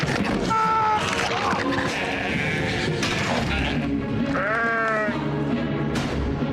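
Sheep bleating in a wavering, drawn-out series of calls with a dense, noisy scene and voices mixed in throughout.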